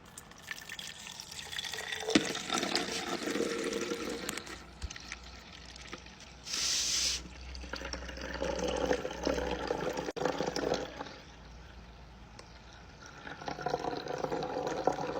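Liquid spills and drips from S12 Pro pump cups, soft splashing and trickling at close range, fairly faint, with a brief brighter splash partway through.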